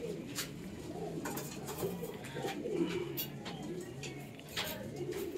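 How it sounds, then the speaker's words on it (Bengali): A pair of Kalanka pigeons in a home breeding loft cooing in low, continuous murmuring phrases, faint and close, over steady background hum. "এক জোড়া কালাঙ্কা পায়রা।"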